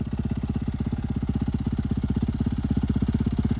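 A motocross bike engine runs on an ATV setup in a fast, even putter of rapid firing pulses, loud and close, with nothing else over it.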